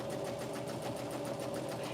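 Close and steady, a sewing machine runs a quarter-inch seam on a pocket tissue pack cover, its motor whirring continuously with a rapid rhythmic needle pulse throughout, no one talking.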